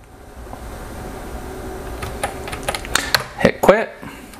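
A computer keyboard typing Wi-Fi keys during Orange Pi Zero network setup, heard as a few sparse clicks that build into a quicker, louder cluster of keystrokes near the end over a faint room hum.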